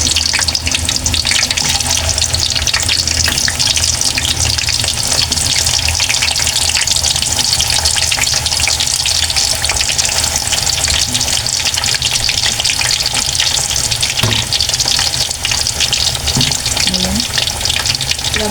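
Sweet potato pieces frying in hot cooking oil for a Filipino merienda, a steady loud sizzle and crackle that runs unbroken throughout with occasional stirring, no talking.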